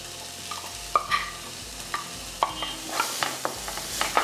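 Chopped vegetables sautéing in ghee in a pan, a soft sizzle broken by repeated scraping stirs of a spoon at an irregular pace, close and clear with no talk.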